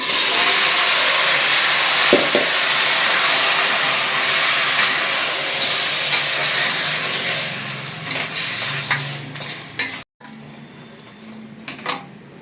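A kilo of mutton goes into a pan of onions fried red, setting off a loud, close, roaring sizzle and steam hiss that fades, breaks off briefly, then resumes quieter with scattered utensil clinks.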